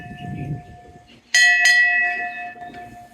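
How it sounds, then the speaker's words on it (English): A ship's bell aboard a historic Maine windjammer is struck twice in quick succession, bright metallic clangs ringing on with a long sustained tone, close and loud over faint background. "This ship's bell we used to announce meal times mostly."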